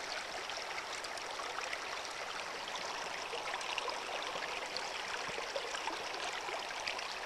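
Water rushes steadily through a gold sluice with miner's moss, the flow dammed with dirt underneath to raise the level, making a constant soft, hissing stream with no breaks.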